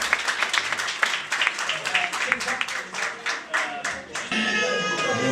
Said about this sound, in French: Alors, tout un applaudissement, bravo à toi.